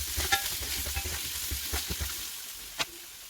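Egg fry with green chillies, turmeric, curry powder and pepper powder being mixed in a pan: a steady close sizzle under scattered scraping and clinking of a spoon, with one sharper knock near the end.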